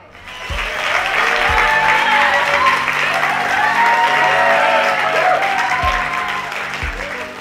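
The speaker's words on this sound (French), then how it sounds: "s'il vous plaît, applaudissez chaleureusement mon fils très courageux" An audience claps loudly for a brave son at a school event. The applause swells after a soft start, holds as a thick, sustained wash with a few whistles or cheers, and eases off near the end.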